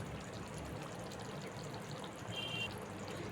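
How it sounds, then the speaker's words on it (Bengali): A small amount of water is poured into a cooking pot, a quiet, steady trickling pour lasting a few seconds with soft hiss and no speech. "এবার একটু আমি জল দিয়ে দিচ্ছি, অল্প করেই দিলাম।"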